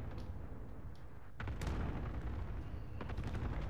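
Gunfire in a multiplayer shooter video game: scattered sharp shots early, then a sudden burst at about a second and a half followed by rapid repeated cracks and booms continuing to the end, fairly loud and close.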